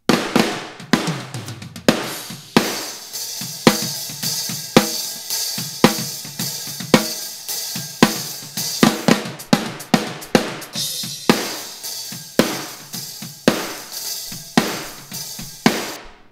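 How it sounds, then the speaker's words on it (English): Snare drum from the GGD Modern & Massive drum library through room microphones, hit repeatedly in a steady groove with loud, sharp cracks and roomy decaying tails, some strikes doubled in quick succession. "The snare again sounds like this."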